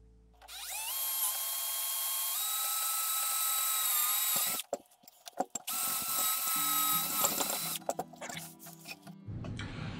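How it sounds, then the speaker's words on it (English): A power drill bores a quarter-inch hole through an airsoft receiver, its motor whining steadily for several seconds, then stopping and restarting in short bursts mixed with clicks and handling clatter near the mic. "I'm gonna want to drill a quarter inch hole through here so that I can get the feed line through it"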